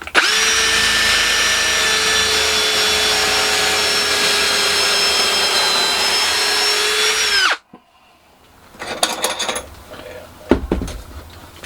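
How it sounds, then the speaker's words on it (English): A power drill whirs loudly and steadily for several seconds, driving screws through boards for a cold frame base, then stops, followed by a few clattering knocks and handling noises. "now I'm just going to drill through and screw them together"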